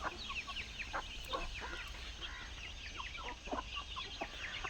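Backyard chickens clucking, a steady stream of short, fairly faint clucks and chirps from several birds close by, with no talking.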